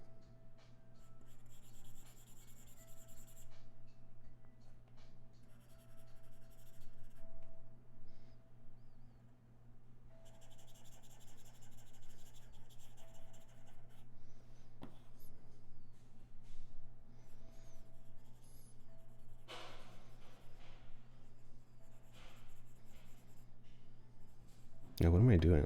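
Pencil shading a drawing on paper, soft intermittent scratchy strokes in quiet bursts over a low steady background hum, ending in a louder knock.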